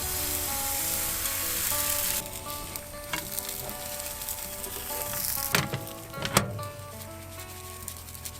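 Crêpes frying in a hot pan for breakfast, a steady broad sizzle that softens after a couple of seconds, with a few scraping and clattering utensil sounds over it, close by and without speech.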